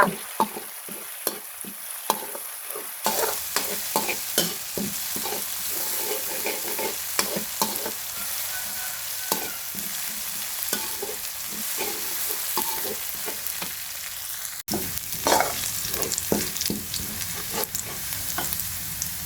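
Garlic stir-fried in a hot pan for a Thai crab-leg dish with cumin leaves, sizzling steadily up close while a utensil scrapes and taps the pan in quick irregular strokes, with no talking.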